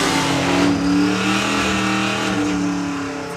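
A 7-second Volkswagen Passat drag car launching against a Mercedes: a loud, close engine roar with strong rising revs that holds steady, then begins to ease off near the end.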